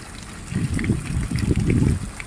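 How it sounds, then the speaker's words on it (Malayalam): Water rushes quickly into a drainage channel at the NH66 Kottakkal bypass construction site in Kerala, a close, steady gurgling flow with a low churning body and small splashy ripples on top. "ഇവിടെയൊക്കെ നല്ല സ്പീഡിൽ വെള്ളം വരുന്നുണ്ട് കേട്ടോ"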